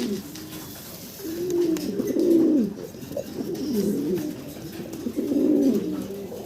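Fancy pigeons coo in low, rolling phrases, repeating every second or so, close and clear over a soft background hum.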